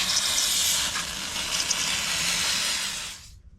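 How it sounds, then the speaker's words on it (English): Brake cleaner spray hissing steadily from an aerosol can onto the oily engine of a Kubota zero turn mower, a loud continuous close-up hiss lasting about three seconds before cutting off abruptly. "I'm gonna go ahead and take some brake clean and clean off all this excess oil"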